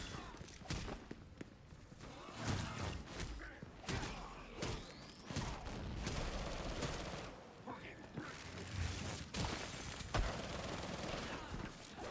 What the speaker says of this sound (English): You just hold trigger down and just shoot.